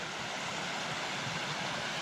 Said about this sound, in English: Gonna cross this creek.